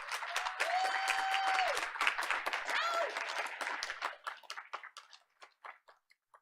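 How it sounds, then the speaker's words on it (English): Applause from the audience at a Board of Education meeting, dense clapping that thins into scattered claps and fades out over several seconds, with a voice heard faintly early on. "Let's give her a round of applause."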